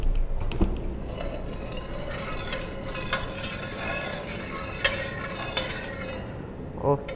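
An agar-agar and sugar mixture is stirred and cooked in a pot for corn pudding, giving a continuous bubbling, scraping texture with occasional clinks of a utensil against the pot.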